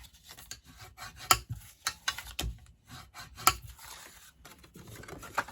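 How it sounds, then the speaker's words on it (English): Folded cardstock for a Stampin' Up column fold card is burnished, giving short close rubbing and scraping strokes with occasional light taps, fairly quiet and irregular. "give them all a good burnish"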